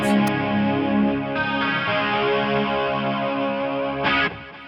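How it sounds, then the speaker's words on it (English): Guitar played through a Flamma FX150b unit with chorus, delay and reverb, ringing out sustained, shimmering chords with long echoing tails and a brief brighter swell near the end. "I'm gonna bring the chorus after the delay, before the reverb"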